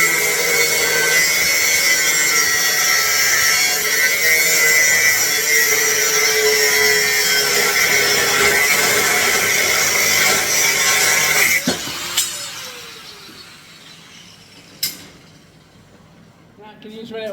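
An angle grinder cutting a piece of metal in a workshop, a loud continuous high whine with harsh scraping for about eleven seconds, then stopping abruptly, followed by a few clanks and a brief rattle as it winds down.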